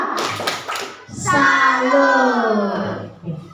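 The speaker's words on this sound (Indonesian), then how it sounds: "Tepuk tangan dulu untuk kelompok 2" A classroom of students clapping for a presenting group, a short burst of hand claps at the start followed by a teacher's voice speaking over the fading sound.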